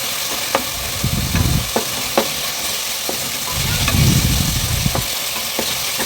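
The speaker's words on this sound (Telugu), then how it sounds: "అల్లం వెల్లుల్లి పేస్ట్ పచ్చివాసులు పోయే వరకు వేయించుకోవాలి" Ginger garlic paste with salt sizzles steadily in hot oil in a pressure cooker while a spoon scrapes through it in roughly eight sharp strokes, loud and close over the constant frying hiss.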